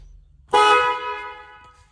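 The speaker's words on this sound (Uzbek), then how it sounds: "Malibu signal qo'yib berganmiz" A Chevrolet Malibu car horn fitted to a Damas minivan gives one loud, sustained, multi-tone honk that sounds abruptly and then fades over about a second and a half, close by.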